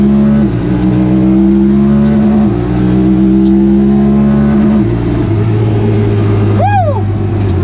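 A Honda Talon 1000R side-by-side launched hard in first gear in manual mode, its loud engine climbing in pitch through the revs, with a brief shout near the end.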